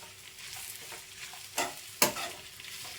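Grated coconut fries in a pan with a quiet, continuous sizzle, broken by two distinct scraping strokes of a stirring spoon close by, and no one speaking.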